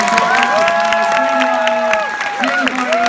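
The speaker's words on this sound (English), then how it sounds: "please give a round of applause once again" Audience applause and cheering at a San Francisco Comic-Con 2016 cartoon voice actors panel, a dense steady wash of clapping with a voice speaking over it throughout, lasting a few seconds.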